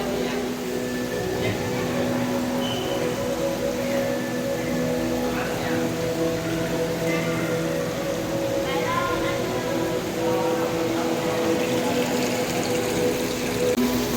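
Steady rushing and splashing of an indoor waterfall-style water feature at Taichung aquarium in Taiwan, a continuous wash of water noise heard alone at a constant level.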